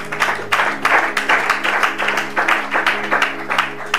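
A church congregation claps together in a steady, rhythmic beat, a loud, close burst of applause repeating about twice per second, with a faint voice underneath.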